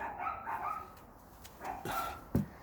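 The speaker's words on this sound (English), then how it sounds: "we're just going to have to deal with dogs barking in the background" Dogs bark a few scattered times in the background, faint and distant, with soft yips between the louder barks. A room hum runs steadily under them.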